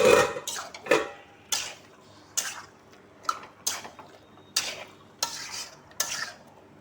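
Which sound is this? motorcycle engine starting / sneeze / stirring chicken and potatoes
stirring chicken and potatoes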